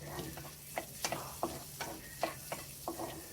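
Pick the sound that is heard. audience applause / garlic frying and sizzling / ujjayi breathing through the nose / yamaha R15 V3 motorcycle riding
garlic frying and sizzling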